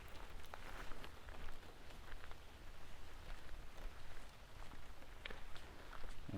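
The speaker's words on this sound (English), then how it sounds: "maybe you'll hear the rain better on my jacket." Rain patters steadily on a waterproof jacket outdoors, a dense close crackle of small drops with faint scattered taps and no talk over it.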